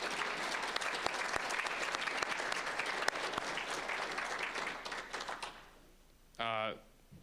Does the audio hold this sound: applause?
yes